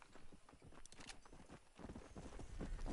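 Horse hooves clip-clop in the game Red Dead Redemption, a steady stepping rhythm over game background noise, fairly close and moderately loud, with no speech over it.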